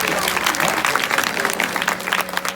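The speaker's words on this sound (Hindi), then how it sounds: "एक बार जोरदार ताली।" An audience at a religious discourse event in Chhattisgarh claps hard and steadily for the whole stretch, dense crowd applause with a little voice mixed in.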